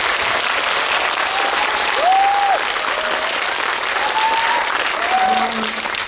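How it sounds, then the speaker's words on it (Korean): An audience at a film screening event for the movie The Moon applauds the actors in a sustained, dense wash of clapping, with a few high whistles or cheers rising above it. "배우님들께 박수 한번 부탁드릴게요"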